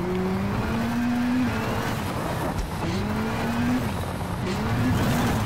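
Rally car in the WRC 5 video game, its engine rising and falling through gear changes as it takes damage, with tire scrubbing and skids under a continuous loud drone.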